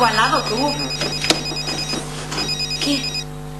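A telephone rings in repeated electronic bursts at close range, steady and fairly loud, with no talk over it.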